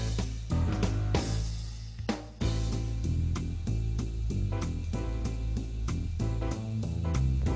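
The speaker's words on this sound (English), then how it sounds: "and I have a nice little jazz combo now. Just piano, drums, and bass" An arranger keyboard runs a jazz combo style of piano, drums and bass: a busy, full groove with walking low bass, piano chords and steady cymbal and drum hits, loud and continuous with no talking.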